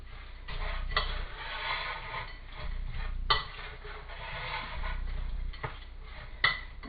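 Minced meat with black pepper is stirred in a bowl, giving soft squelching and scraping with a few sharp clinks of a utensil against the bowl's side.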